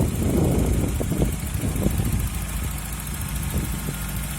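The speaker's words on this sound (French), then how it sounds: "petite vidéo moteur tournant au ralenti" A 1990 Volkswagen Golf 2 GTI engine idles steadily with a low, rumbling hum and slight irregular chugging, close by and without talk.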